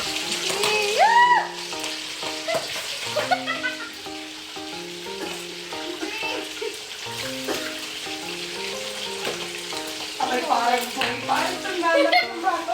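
Meat frying for Batangas-style pochero in a home kitchen, a steady close sizzle running throughout beneath a mix of talk and background music.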